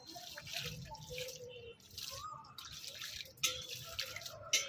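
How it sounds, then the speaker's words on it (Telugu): Water is poured onto young turmeric plants in a rooftop garden, about a litre per plant: a soft, steady splashing and trickling with small drips, faint and close, with no talking. "ఈ ఒక లీటర్ నీళ్ళు పోస్తున్నాం ఒక్కోదానికి"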